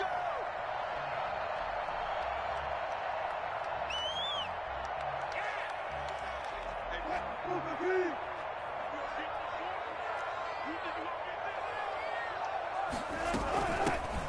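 A football stadium crowd at a Houston Texans vs Seattle Seahawks game makes a steady, dense roar, with scattered whistles and cheers in it and a louder swell near the end.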